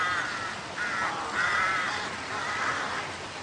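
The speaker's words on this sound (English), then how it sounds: "Carrion crows." Carrion crows cawing in several harsh, drawn-out calls, one after another at moderate distance over a steady outdoor background.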